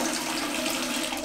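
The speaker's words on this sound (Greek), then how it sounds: "Αν ανοίξουμε το διακόπτη από το νερό και σηκώσουμε, συνηθίζει να ρίχνει." Water runs continuously into a toilet cistern whose float valve is broken, a steady hissing rush heard up close with no speech.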